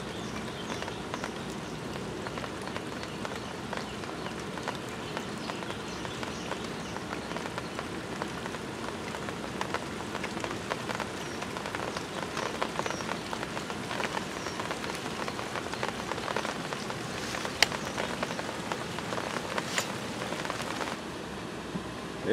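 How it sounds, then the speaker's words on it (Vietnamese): A heavy rain shower hisses as a dense, even patter on a river during a fishing trip, steady and close for the whole stretch, with scattered sharper drop hits and no talking. "Ui trời trời, bắt đầu mưa to rồi các bạn."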